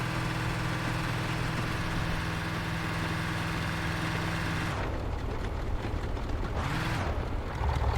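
Vehicle engine idling in an SCP video game, a steady low hum with faint tonal drone that cuts out and drops away near the middle, briefly returning before fading.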